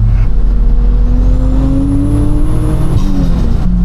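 A Toyota Chaser, freshly swapped to a manual gearbox, drives along with a loud, steady engine drone up close, the pitch climbing smoothly as it accelerates, then a brief shift before pulling again.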